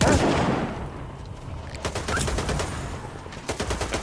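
Rapid bursts of gunfire crackle in quick succession, loud and close, with a dense noisy rush at the start and sharp repeated shots later, in S.T.A.L.K.E.R. 2: Heart of Chornobyl.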